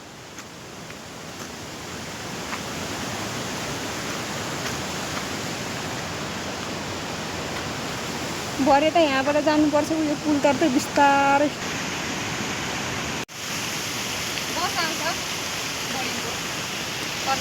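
A mountain stream rushes in a steady, loud roar along a trail near a footbridge, with someone speaking briefly over the water partway through.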